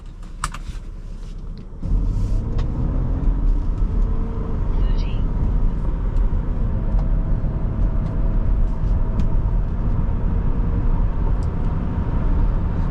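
A 2011 Toyota Camry SE V6 sets off from inside the cabin: after a brief quiet start, a steady low engine and road rumble takes over and holds evenly, with faint clicks above it.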